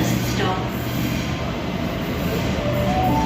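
A Sydney train pulls away from a platform at Central station with a loud, steady rumble of wheels and carriages. Faint tonal squeals rise above the continuous rolling noise.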